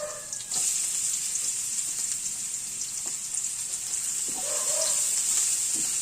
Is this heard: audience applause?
no